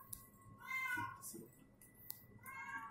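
Pet cat meowing at a veterinary clinic: several drawn-out, wavering meows in close succession over about three seconds, loud and near, with faint background noise and no speech.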